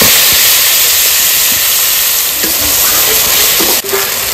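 Ground beetroot paste sizzles loudly in hot oil in a kadai, already seasoned with dried red chilli, garlic, turmeric and salt: a steady, close hiss fills the whole stretch, with a few faint clinks and stirring bumps.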